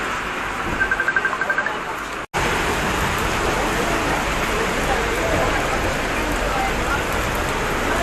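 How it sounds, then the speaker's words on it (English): Steady rain falls on a cold day in London, a dense, close hiss of drops on hard surfaces that carries on almost unbroken, with only a brief cut partway through. "Yesterday beautiful sunshine and today rain and cold."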